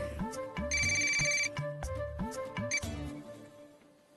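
A mobile phone rings indoors with a repeating electronic melodic ringtone, bright and clear, cycling through several bursts before fading slightly toward the end; no one speaks over it.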